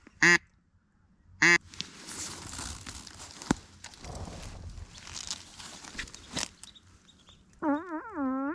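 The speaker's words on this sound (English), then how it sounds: "while I was changing out the decoys, some ducks came in" Wild ducks coming in over decoys on the water during a hunt, giving several bursts of quacking calls, a couple early, then a louder, sustained run of nasal quacks near the end, between rustling and wind noise.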